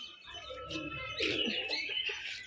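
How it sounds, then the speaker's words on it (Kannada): Parrots chirping and calling near a boat ride on a river, several overlapping high tweets and trills rising louder midway over a steady low rumble, with no talk. "ಗಿಳಿಗಳು"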